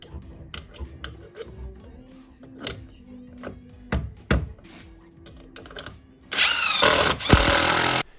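Scattered light clicks and taps, then a loud, close two-second burst of an impact driver rattling and whirring as a screw goes into wood.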